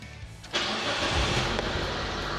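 A Proton Waja 1.6L 4G18 engine cranks briefly then catches and fires up, settling into a loud, steady running rumble close by.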